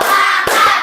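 Hands clap during a classroom concentration clap game, one sharp clap landing midway through a brief loud stretch of room noise and voices.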